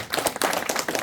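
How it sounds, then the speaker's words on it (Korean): An audience at a lecture in Yeosu claps together, a dense patter of many hands that fills the short moment with steady, fairly close applause and no talk on top. "다시 한번 박수 한번 쳐주십시오."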